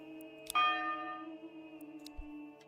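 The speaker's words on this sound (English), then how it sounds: "Change the church bell sound." A church bell in the video game Manor Lords strikes once, a clear ringing tone that hums and decays over about two seconds, with faint clicks around it.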